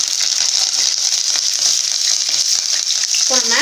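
Curry leaves crackle and spit in hot oil with cumin seeds and dried red chillies for egg rice, a loud, close, steady sizzle with popping bursts and a short metallic clink at the end.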